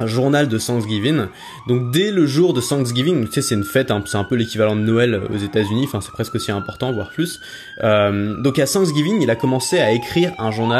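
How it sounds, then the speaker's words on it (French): An emergency vehicle siren wails on a New York street, loud and close, its pitch rising and falling repeatedly under continuous talking from a nearby speaker. "Alors excuse-moi pour la sirène."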